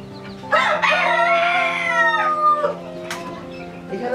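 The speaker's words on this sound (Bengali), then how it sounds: "এখানে আছে অনেক সুন্দর সুন্দর মুরগি, অনেক রকমের মুরগি আছে এখানে।" Chickens and a rooster on a rooftop farm give a sustained, harmonic crowing call mixed with clucking, close and fairly loud, with a brief sharper squawk near the end.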